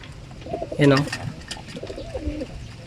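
Pigeons coo in a loft, a few soft, low, rounded calls rising briefly near the start and again toward the end over a faint, steady background hum.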